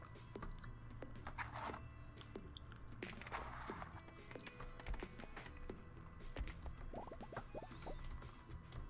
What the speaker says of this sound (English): I know you can't see it, but you'll probably hear me chewing.